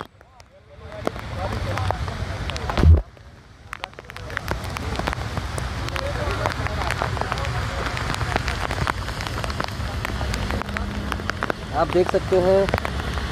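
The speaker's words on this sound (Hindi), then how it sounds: "अजमेर में बरसात का कैसा सिचुएशन है वो हम आपको दिखाएंगे" Heavy stormy rain pours down in Ajmer with a steady, dense hiss of drops hitting surfaces. A single thud sounds early on, and someone speaks over the downpour at times.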